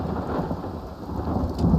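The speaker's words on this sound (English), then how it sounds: "Ah, man, it's thunder and lightning." Rain pours steadily with a low rolling rumble of thunder in the video game Everybody's Gone to the Rapture, a dense, loud storm wash that swells slightly toward the end.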